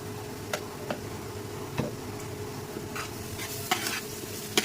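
Shrimp fry on an induction cooker with a steady, dense sizzle and a faint electric hum, as a utensil stirs with occasional light clicks and taps near the pan.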